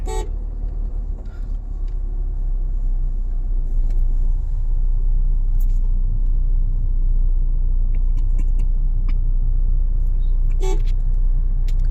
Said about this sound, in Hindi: यहाँ पे हॉर्न दे करके फिर हम लोग निकलेंगे।